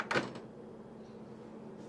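Door of a DeLonghi ESAM5500M espresso machine closing, a single short plastic click near the start followed by quiet hum, close and alone.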